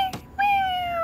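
A cartoon kitten gives a single clear, high meow that rises, then draws out into a long, slightly falling tone, heard alone and close.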